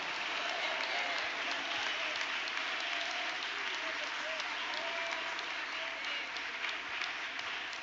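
A church congregation at a Portuguese-language evangelical service claps continuously, with faint voices and exclamations mixed into the steady applause.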